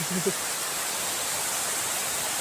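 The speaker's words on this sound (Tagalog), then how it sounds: "waterfalls, mini waterfalls" A small river waterfall pouring in a steady, broad rushing wash, close and even throughout, with a brief voice at the very start.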